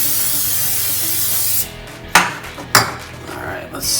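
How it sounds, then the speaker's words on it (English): Non-stick cooking spray hisses steadily onto two 8-inch metal cake pans for over a second. Then the pans clank and clink as they are handled and set down. "We're going to use some non-stick spray to get them nice and greasy just so the cake doesn't stick."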